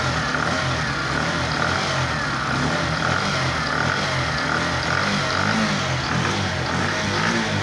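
A rebuilt Bajaj Platina BS6 motorcycle with an electric carburettor idles steadily after an engine overhaul, a continuous close mechanical putter with a faint rhythmic knock, running alone without speech throughout.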